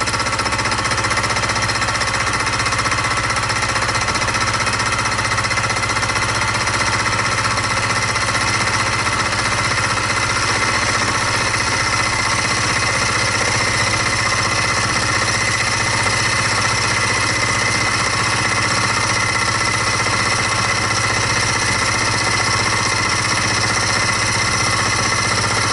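A fly cutter on a mini mill takes an overly deep cut that leaves a burr on the workpiece, giving a steady, loud, continuous grinding machining noise with a constant motor hum for the whole stretch, no talking.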